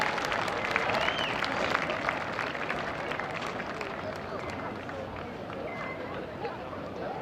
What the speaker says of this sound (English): Please give a round of applause for our Eagle Cheer seniors